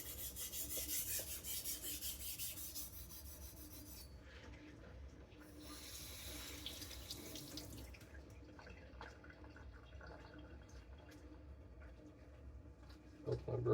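A Tojiro kiritsuke knife is rubbed over diamond sharpening plates, giving a steady, close raspy scraping with brief pauses between passes and a bit of water trickling and dripping in the background.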